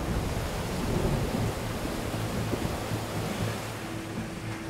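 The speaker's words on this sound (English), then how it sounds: "It's raining." Steady rain hissing over a broad, noisy wash, with low rumbling underneath and no voices.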